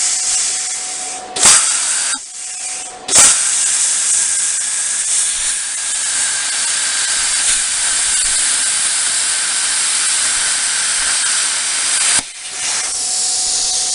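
A plasma cutter slices through stainless steel round stock with a loud, steady hiss that runs for about ten seconds, bracketed by short bursts and pauses at the start and a brief break near the end.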